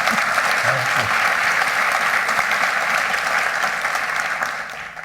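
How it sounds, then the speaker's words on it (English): An audience applauds Jacques Pépin at a live on-stage conversation, a dense, steady clapping that fills the room and fades slightly toward the end. "So let's have some applause for Jacques."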